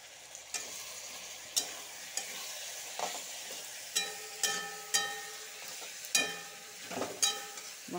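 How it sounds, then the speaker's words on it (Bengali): Green chilli, cumin and coriander pastes frying in a pan, with a low steady sizzle punctuated by sharp, regular scrapes and taps of a spatula stirring, close and alone. "মশলাটার সাথে একটু ভালো করে ভাজবো।"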